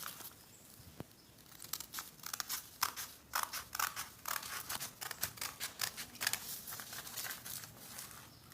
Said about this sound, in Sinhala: එතනින් කපන්න.